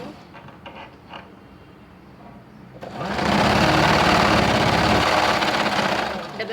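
A sewing machine stitches a kurti shoulder seam, starting after a few quiet moments and then whirring steadily and loudly for several seconds before slowing near the end.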